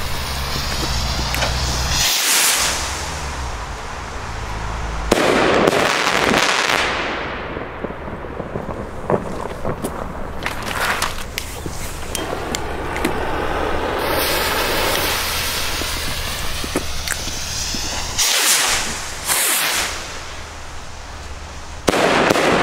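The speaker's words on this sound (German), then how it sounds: "So, jetzt die Argento Shell Rockets Kaliber 34mm. Immer zwei Stück gleichzeitig." Argento Shell Rockets 34mm fireworks launched in pairs outdoors, with sharp whooshing launches, loud cracking bursts and crackle overhead, repeated across the sequence amid outdoor ambience.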